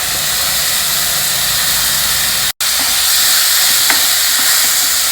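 Mixed vegetables with peas and tomatoes cooking in a pan, a loud continuous hiss of sizzling that drops out for a split second midway, with faint stirring knocks underneath.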